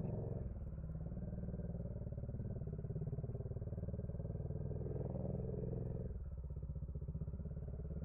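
Kawasaki Dominar motorcycle ridden on a road in Ilocos Norte, its engine a steady close rumble throughout with a slight shift in tone near the end, no talking.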